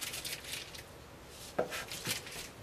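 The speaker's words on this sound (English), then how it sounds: "I'm just going to roughly kind of cut them up to get more surface area" A knife roughly chops two bricks of cream cheese on a board, with a few soft thuds and scrapes, two sharper knocks near the end, and no talking.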